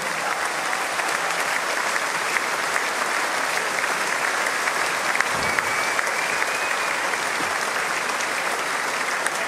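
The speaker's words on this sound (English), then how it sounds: "Give the ladies a round of applause." A basketball arena crowd at a 2005 NBL game between the Melbourne Tigers and Adelaide 36ers, marking Andrew Gaze's 600th game, claps steadily and loudly for the whole stretch, a dense, even wash of applause with scattered louder claps.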